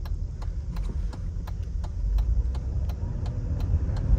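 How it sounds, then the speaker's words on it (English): A classic Mercedes convertible driving with the top down, with a constant low rumble of wind and road noise that swells slightly, plus a faint regular ticking through the cabin. "A little bit of wind noise because of the convertible."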